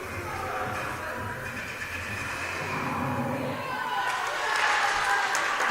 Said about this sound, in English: Round of applause all over here